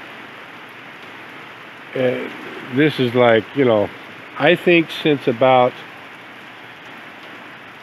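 Steady rain falls with a constant close hiss that runs the whole time, while someone talks over it in the middle section.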